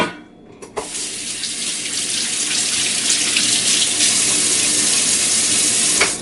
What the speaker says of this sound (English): Giving my hands a quick wash, as you can probably hear in the background